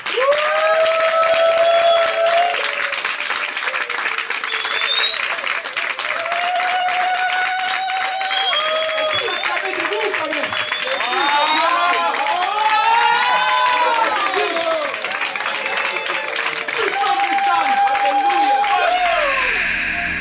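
A church congregation at a wedding ceremony claps loudly and steadily, with cheering and shouted voices and a few high whoops layered over the dense applause throughout.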